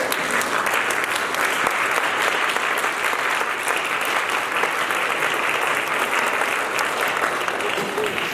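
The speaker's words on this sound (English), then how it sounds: "Come on, stand up and give him a big thank you cheer." A standing audience gives Andy Buchsbaum a thank-you ovation, a loud, steady, unbroken roar of many hands clapping with some crowd voices mixed in throughout.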